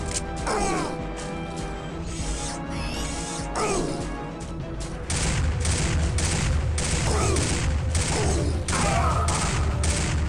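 Rapid bursts of gunfire from a boss fight in the video game Turok 2: Seeds of Evil, a dense sequence of repeated loud shots and crashing impacts over game music, growing heavier in the second half.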